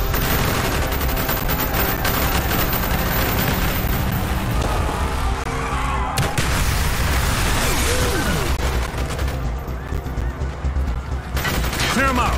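Heavy gunfire rattles without pause through a street battle in the Call of Duty: Black Ops mission Operation 40, with bursts and rapid volleys layered over booming impacts, loud and dense for the whole stretch, with shouted voices mixed in.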